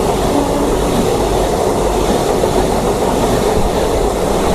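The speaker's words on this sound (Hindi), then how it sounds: "कटरा से नई दिल्ली को जाने वाली वंदे भारत हमारी ट्रेन को भाई ओवरटेक कर रही है।" Steady, loud rumble and rattle of a Vande Bharat express running from Katra to New Delhi as it overtakes a passenger train, heard from inside the slower train with constant wheel and carriage noise and no pauses.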